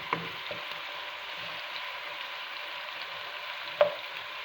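Pork sizzles steadily in a hot pan, a soft continuous frying hiss with a couple of faint clicks and stirring knocks, no voices.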